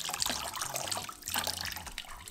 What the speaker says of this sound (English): As you can see, the majority of the water just rinses out.